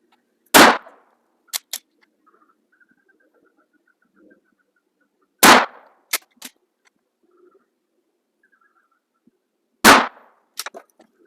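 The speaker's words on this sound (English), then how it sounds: "We have our 20 gauge shockwave now with the factory bead and safety with some slugs in there. So let's go ahead and get the first 3 shots off." A 20 gauge Shockwave shotgun firing slugs outdoors, three loud sharp blasts spaced several seconds apart, each followed by quick clacks of the action and near silence between shots.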